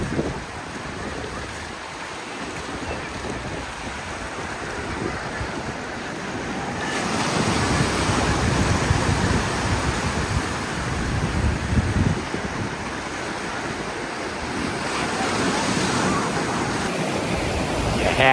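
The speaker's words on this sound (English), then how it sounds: "Have to admit, it is a pretty beach." Ocean surf rolls onto a crowded beach in Maine, a steady broadband wash of breaking waves with gusts of wind noise against the microphone, continuous and fairly loud throughout with no clear talk.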